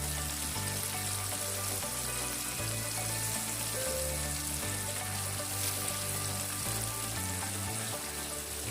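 Chicken pieces coated in maida flour frying in hot oil at home, a loud, steady sizzle filling the whole stretch with a low hum underneath and no voices.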